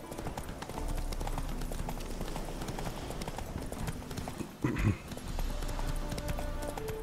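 Horse hooves galloping in the video game The Witcher 3, a steady rapid clip-clop with a brief snort or whinny midway, over low game ambience.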